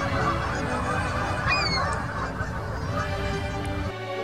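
Migrating geese honk over a steady outdoor wash of wind or water, a brief cluster of sharp calls rising in the middle and trailing off.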